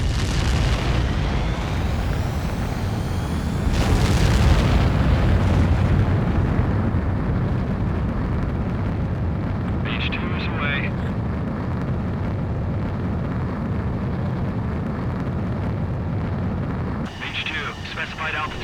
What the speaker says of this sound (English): H2, begin takeoff sequence. You're cleared for launch.